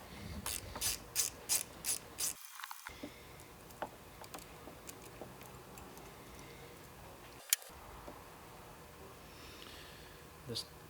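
A ratchet backs out a T27 Torx screw from a metal cable clamp on the handlebar riser of a 2024 Harley-Davidson Road Glide, giving a run of quick, close clicking strokes followed by scattered lighter ticks and a single sharp knock.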